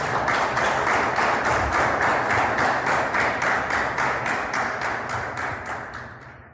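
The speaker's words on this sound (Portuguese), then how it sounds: "Aplauda Jesus de Nazaré." A church audience claps in a rhythmic, even beat of roughly two claps per second, loud at first and gradually fading toward the end.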